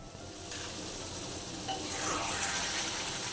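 Beef rendang simmering down in thick coconut milk in a pan, a steady soft bubbling sizzle with occasional stirring scrapes, fairly close and without talk.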